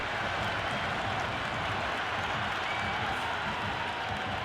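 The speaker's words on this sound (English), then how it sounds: "It's evident and ever so audible that the crowd is at near bursting point at today's play." Cricket stadium crowd in the video game Cricket 26 roars in a steady, dense wash of cheering and clapping that holds at a constant loud level throughout, with no distinct voices rising above it.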